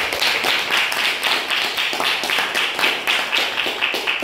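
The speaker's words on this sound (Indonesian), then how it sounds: "Tepuk tangan dulu kelas 8L ya." A class of eighth-grade students claps together at a school science seminar, a dense, continuous patter of many hands with rhythmic surges, steady and fairly close, with no talking over it.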